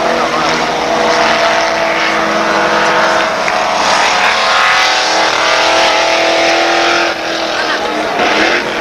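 Loud, continuous roar of a historic race car engine at a Formula Classic race at Interlagos, sustained throughout at a steady high pitch with slight shifts in tone.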